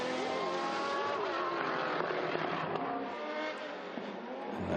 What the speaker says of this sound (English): Fantastic to see and hear that glorious wail of the Jaguar V12 engine.